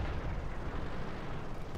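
A tank shell strikes the turret of a KV-1 in the World of Tanks game, a dense, rumbling boom that sustains through the moment at steady loudness, with no speech over it.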